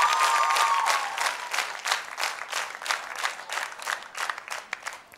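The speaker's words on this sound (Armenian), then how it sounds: "Այս այդ ժամանակն է, երբ շատ են ծափարում" A crowd of audience members applauds at a gala, dense clapping that starts loud and then continues in uneven, slightly fading waves, with a brief voice at the start.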